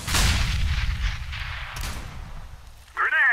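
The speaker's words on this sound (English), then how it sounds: "Throwing the flashbang" Flashbang grenades and gunfire in Counter-Strike: Global Offensive on the Cache map: loud, dense bursts of blasts and shots fill the first seconds, then a sharp bang near the end gives way to a high, wavering ringing tone.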